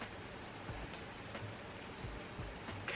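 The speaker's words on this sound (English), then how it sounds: "I hope those rain sounds are like calming ambiance background" Steady rain falling outside an open window, a soft continuous hiss with faint scattered drips and low thumps, heard at a distance as quiet background ambience with no talking.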